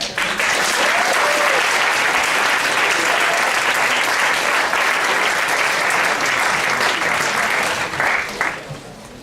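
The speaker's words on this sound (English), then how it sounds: "Let's get another round of applause." A room full of people applauds at a university engineering spark party after a demonstration, loud continuous clapping that holds steady and then tapers off near the end.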